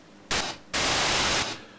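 A MMOUK OS1 synthesizer puts out bright white noise in two bursts: a short hiss, a brief drop, then a longer steady hiss that cuts off sharply, with no talking.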